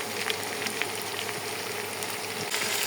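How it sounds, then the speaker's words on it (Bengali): Lentils fry with onion in a pan, producing a dense, even sizzle with faint stirring scrapes, close and fairly loud throughout. "ডালটা দিয়ে যে ভালো মতো একটু ভেজে নেব"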